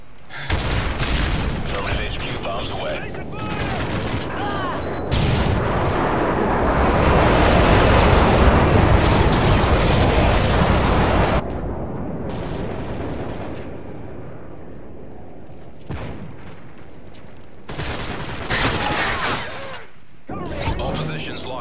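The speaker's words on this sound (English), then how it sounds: "Target HQ bombs away." Heavy booms and rumbling explosions from a stealth airstrike bombing in Call of Duty Modern Warfare 3 roll loudly over several seconds, followed by scattered gunfire and blasts, with game voices speaking throughout.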